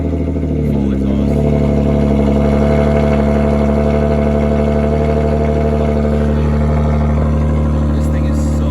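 An Audi SQ5 with a full exhaust runs loud and close, a steady deep drone with a brief rev near the start, filling the whole space without a break.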